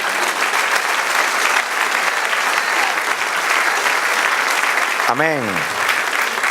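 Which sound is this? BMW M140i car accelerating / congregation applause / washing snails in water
congregation applause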